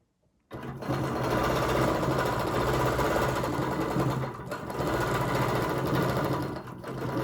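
A domestic sewing machine runs at steady speed in a continuous close whirring drone, briefly easing off midway before resuming, locking stitches at the end of a quilting line.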